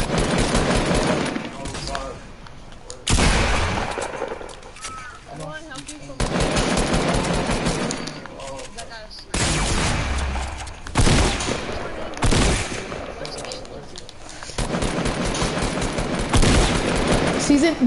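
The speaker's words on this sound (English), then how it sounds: "What are you shooting at?" Video game gunfire pours out in long, loud, dense bursts of rapid automatic shots broken by brief pauses, with voices talking over the shooting.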